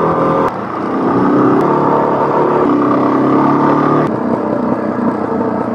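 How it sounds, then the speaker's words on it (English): A Suzuki DRZ400 dual-sport motorcycle, jetted slightly lean, drones loudly and steadily at close range, with a few brief sharp pops cutting through as it decelerates. "Jetted a little bit lean, got that deacceleration pop."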